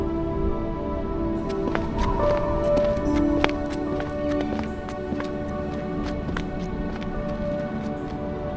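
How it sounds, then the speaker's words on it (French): Footsteps echo through an abandoned mine in the Minecraft video game, a string of sharp, irregular clicks and knocks over a low droning ambience for several seconds. "s'il n'y a aucun mineur, de qui étaient ces bruits de pas?"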